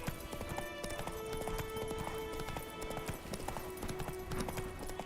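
Roach the horse gallops in The Witcher 3, a steady rapid clip-clop of hooves running continuously under game music, with a brief whinny-like tone and no talk.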